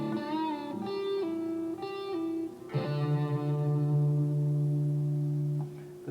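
Electric guitar playing a lick, a few quick picked notes with a grace-note hammer-on, then a long sustained note held with vibrato, effected with echo and reverb, quiet and alone.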